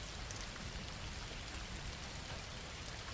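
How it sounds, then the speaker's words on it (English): Fine, persistent rain falls steadily, a dense and even hiss of drops on surfaces that holds without pause or variation throughout, with no voices. "The rain did not stop."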